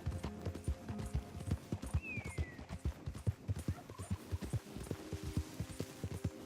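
Horse hooves clip-clop at a steady walking rhythm in the Red Dead Redemption video game, with a brief whinny partway through and a quiet background hum.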